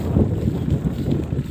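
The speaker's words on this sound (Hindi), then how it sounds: "बहुत अच्छी हवा चल रही है" Wind gusts outdoors at a ghat by the water, buffeting the microphone in a continuous low rumbling roar that swells and eases, with no voices.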